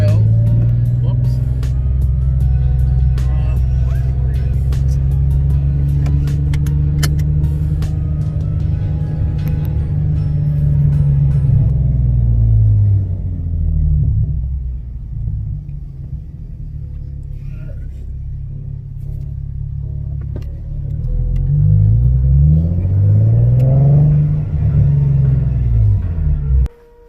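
Car driving along with a steady low engine rumble throughout, rising and falling with revving near the start and again toward the end, loud and close as from inside the cabin, with no clear talk.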